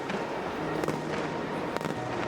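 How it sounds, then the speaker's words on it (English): Mascletà firecrackers explode at Las Fallas in Valencia, a dense, loud barrage of overlapping bangs with a few sharper cracks standing out over a continuous roar. "it is a series of loud, loud firecrackers"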